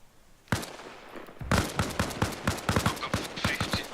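Rapid gunfire in a tactical shooter game, close and loud, with a single shot followed by a dense run of sharp bursts and overlapping reports firing almost continuously.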